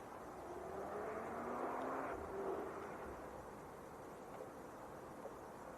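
An Aer Lingus ATR turboprop airliner approaches Leeds Bradford Airport with a faint, distant engine drone that swells briefly and then fades to a steady low hum.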